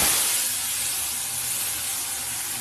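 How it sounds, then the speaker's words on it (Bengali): Spice paste hitting hot oil for a khoira fish curry, a loud, dense, continuous sizzling hiss that fills the whole moment at close range. "এবার আমি তেলের মধ্যে মশলাটাও দিয়ে দেবো"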